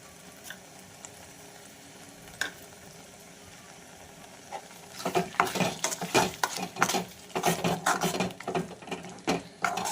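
A spoon stirs rajma masala with crushed kasuri methi in a pan, starting with quiet sparse clinks, then turning into a dense run of scraping strokes and clatter close by.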